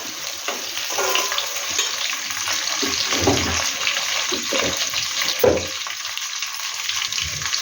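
Pieces of bottle gourd and potato fry with salt in a pan for sambar, giving a steady close sizzle with soft stirring scrapes throughout.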